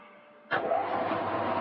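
Motor noise jumps up suddenly as a woodworking edger starts, then holds a steady, loud running drone with no one talking.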